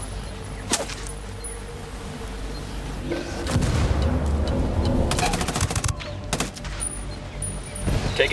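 Gunfire in Ghost Recon Wildlands: scattered single shots early, then a dense burst of rapid fire mid-clip followed by a few more sharp cracks, with background game ambience.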